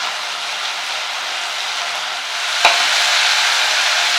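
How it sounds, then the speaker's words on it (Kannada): Tomatoes sizzle steadily in a hot pan for Karnataka-style avarebele saaru, a dense, even frying hiss with a single sharp clink about two-thirds through, no voices. "ನೋಡಿ, ಟೊಮೊಟೊನ ಸ್ವಲ್ಪ ಬೇಯಿಸ್ಕೊತಾ ಇದ್ದೀನಿ."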